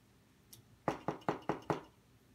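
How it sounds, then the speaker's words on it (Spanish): A series of five firm knocks on a door in quick, even succession, fairly close and clear, with no talk. "La niña, que era muy golosa, se fue a casa del tío Lobo y llamó a la puerta."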